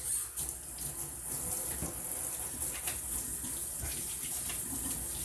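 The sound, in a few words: water running from tap while washing up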